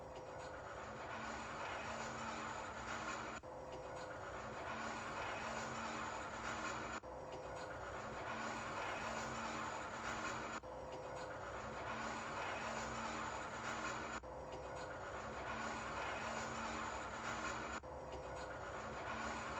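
A Schindler 300P traction elevator travels upward at TheLAB, Pai Kok, Capitol Island, producing a steady close mechanical hum and whoosh with regular repeating surges of cabin and rope noise.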